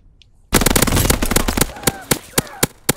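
A bomb goes off in a multiplayer shooter, a sudden loud blast after a half-second of near silence, followed by a rapid string of sharp gunshots and bangs tapering into spaced single cracks.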